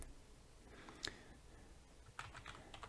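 Quiet typing on a computer keyboard, soft scattered key clicks with a couple of sharper taps, close and faint with no voices.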